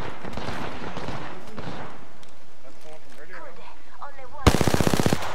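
Gunfire in the Apex Legends video game, a sudden loud burst of rapid shots arriving near the end after a stretch of quieter game sound, with people talking over the first part.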